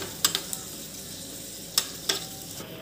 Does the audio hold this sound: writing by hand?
no